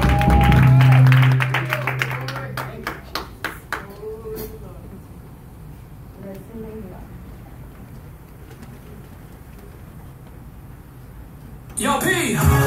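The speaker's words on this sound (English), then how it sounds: "Let's clap your hands." Congregation clapping hands at a church praise service: quick, rhythmic claps over the opening few seconds amid voices, then a quieter stretch before music bursts in at the end.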